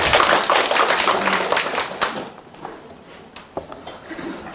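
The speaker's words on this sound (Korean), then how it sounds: "잘하는 의미로 박수를 치셨을 텐데" Students in a real estate law class clap, a loud round of clapping that fades after about two seconds, leaving a few scattered claps and light room noise.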